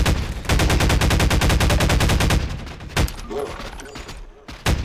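Heavy automatic gunfire in the video game Half-Life 2, a loud, rapid, steady burst for over two seconds, then a few scattered single shots and a final sharp blast.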